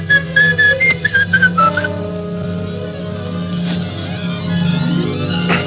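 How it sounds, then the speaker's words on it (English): A person whistles a short descending tune of quick, bright notes, then trails off over a steady low hum and soft rain-like background noise. "I can whistle a bit"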